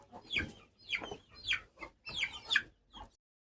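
Guinea fowl on a farm give about six harsh, rhythmic calls in quick succession, close by and fairly loud, before falling silent.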